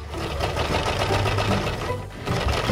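A toy washing machine whirs and rattles continuously with a Play-Doh number inside, a steady mechanical buzz close by and loud throughout, no voices over it.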